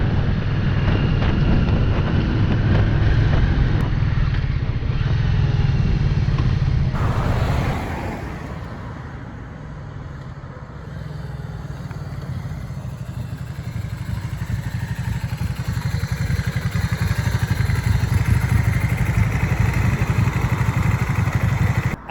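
Yamaha XV535 Virago motorcycle on a short test ride after a front brake master cylinder repair, its engine droning steadily and loud with heavy wind buffeting the microphone throughout, easing briefly midway before building again.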